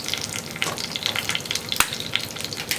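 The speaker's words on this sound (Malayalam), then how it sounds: "ഈ വെളിച്ചെണ്ണയിലേക്ക് ആദ്യം നമ്മൾ ചേർക്കുന്നത് ഒരു തണ്ട് കറിവേപ്പില." Curry leaves hit hot coconut oil in a pan for a Kerala potato stir-fry, giving a close, continuous crackling sizzle with scattered spits and one sharp pop.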